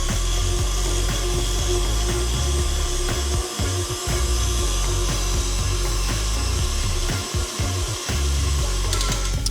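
An electric stand mixer churns Earl Grey tea cake batter, a loud continuous whirring with rhythmic scraping and thumping against the bowl, briefly dipping twice as the beater is adjusted.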